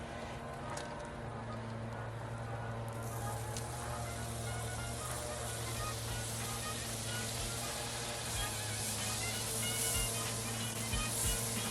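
French toast sizzles steadily on a Blackstone griddle with two burners lit, a continuous close hiss and crackle holding at an even level throughout.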